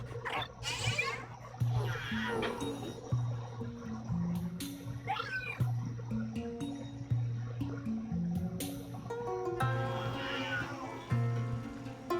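A cat meows repeatedly in the Luigi's Mansion 3 video game, several drawn-out, clear cries spaced through a looping game soundtrack of steady low musical notes and occasional drips.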